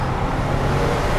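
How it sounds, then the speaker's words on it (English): A Porsche 996 Turbo with a manual gearbox accelerates under load, its engine and turbochargers giving a dense, steady roar with road noise, heard from inside the car with no voices. "you hear the turbochargers pushing and the car going forward"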